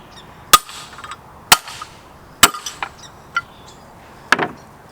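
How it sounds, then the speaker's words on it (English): Four sharp metallic hammer strikes knocking a Volkswagen front wheel hub out ring out at uneven intervals, each followed by a few lighter taps and rattles, close and clear with no talking. "get a hammer, and we'll beat the crap out of it"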